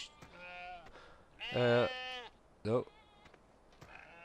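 Sheep bleat in a farming video game, several loud harmonic calls with a long bleat near the middle and a shorter one after, over a quiet game backdrop with faint clicks.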